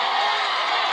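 Dense crowd noise at a Malakhro wrestling bout in Ayoub Goth, Karachi, held on Kashmir Day, with a steady wash of cheering and applause sustained throughout at close range.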